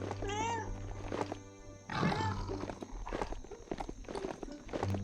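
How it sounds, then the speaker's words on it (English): A pet cat meows indoors, with a few short cries early in the clip, fairly faint and mixed with shuffling, footstep-like bumps and low background hum, no talking. "So she might be meowing for a few minutes."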